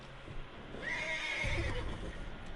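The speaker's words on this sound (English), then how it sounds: "O cavalo tá bravo." A horse in Red Dead Redemption 2 gives one clear, close whinny that rises and falls, with a faint hoof clop underneath and no talk.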